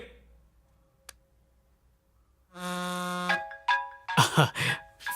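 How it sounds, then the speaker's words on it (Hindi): A mobile phone ringtone in a Hindi comedy scene sounds as a bright melodic tone that starts after a quiet stretch, rings steadily for under a second, and then breaks into louder repeated bursts. "फोन बज रहा है, कोई इंपॉर्टेंट कॉल होगा"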